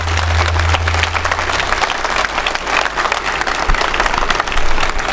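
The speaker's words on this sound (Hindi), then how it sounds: "इसको यादगार बनाने के लिए एक गर्मजोशी के साथ तालियां हो जाएं अच्छे से, थोड़ा हाथ ऊपर उठा के" An audience at a statue unveiling ceremony for Babasaheb Ambedkar breaks into loud, sustained applause, many hands clapping close by in a dense, continuous burst over a low hum.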